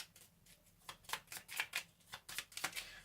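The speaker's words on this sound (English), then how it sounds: "So shuffle the discard pile," A discard pile of cards is shuffled during the card game After the Virus, giving a quick series of soft, papery riffling bursts close by and fairly quiet, roughly a dozen in rhythmic succession.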